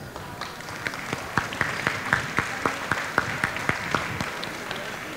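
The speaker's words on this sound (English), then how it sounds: "let's give them a round of applause." Applause at a gala dinner, heard as a modest, fairly sparse run of individual claps with distinct spaced hand strikes, moderately near over a low murmuring room.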